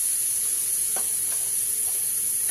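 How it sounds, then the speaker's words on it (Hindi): Tadka for dal spits and sizzles in a pan on a wood-fired chulha, a constant bright hiss with a few small pops and no talk. "बस ये तड़का हो रहा है"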